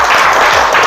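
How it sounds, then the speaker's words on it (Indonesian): Classroom applause from a group of students, a brief, loud burst of many hands clapping together close by. "Tepuk tangan untuk kita semua dulu."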